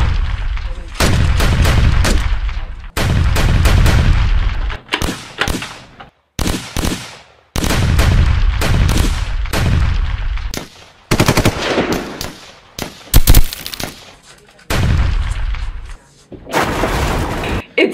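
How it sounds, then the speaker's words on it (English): Nerf guns are fired in bursts around a busy office, producing rapid clattering volleys of foam-dart shots separated by short pauses, close and fairly loud, with some voices mixed in. "we've started having some fun with Nerf guns"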